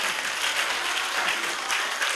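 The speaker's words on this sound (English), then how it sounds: "Clap for yourselves." Participants at a vocations camp clap together in a short, dense burst of applause, even and fairly loud throughout, with no one speaking.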